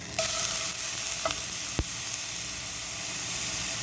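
Garlic dropped into hot canola oil in a pan gives a loud, steady sizzling hiss with a few brief clicks and pops.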